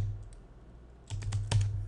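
Quick keystrokes on a computer keyboard: a few faint taps, then a short burst of crisp, close clicks near the end.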